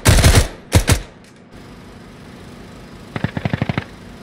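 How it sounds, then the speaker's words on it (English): Ground Branch tactical shooter gunfire: two loud close bursts of automatic fire open, then after a quiet stretch a quicker rattling volley of evenly spaced shots sounds, with no talking over it. "Taking fire."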